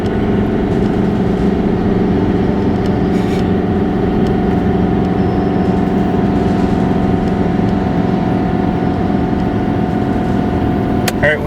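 A hotshot pickup truck engine at full throttle climbing Pinware Hill, a loud steady drone with a sustained hum and rumbling road noise, a voice speaking over it.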